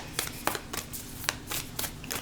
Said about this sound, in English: Even shuffling them just feels smooth.